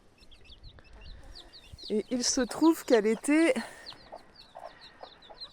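Chicks peep near a hen on a farm in spring, behind a woodpile in brambles. The faint, high, scattered peeps run throughout, and someone speaks French over the middle of the clip.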